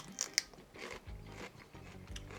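Crisp bites into fresh, sweet mangetout pods grown in a home garden, a few sharp crunches followed by quieter chewing, close and fairly faint with no talk.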